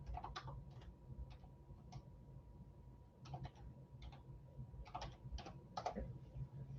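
Keystrokes on a computer keyboard come in short bursts of typing, with pauses between groups, close and fairly quiet over a faint steady hum.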